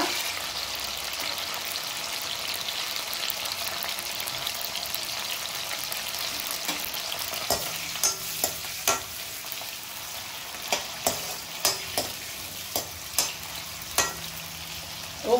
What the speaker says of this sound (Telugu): కలర్ మారిపోయే వరకు వేపొద్దు, ఎందుకంటే ఆ రొయ్యలో ఉన్న టేస్ట్ పోయిద్ది